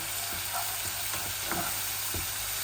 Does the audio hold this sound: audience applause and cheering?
no